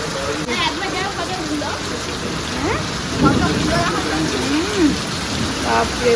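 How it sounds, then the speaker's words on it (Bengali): Heavy rain pours down during a power cut at a house, a dense, steady roar of falling water with people talking over it throughout. "বৃষ্টি দেখো বৃষ্টি"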